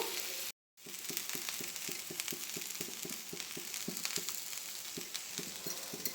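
Pesarattu, a green gram dosa made with sprouts and topped with vegetables, sizzles steadily on a hot pan. A brief dropout near the start interrupts it, and faint regular clicking runs through the sizzle. No one speaks.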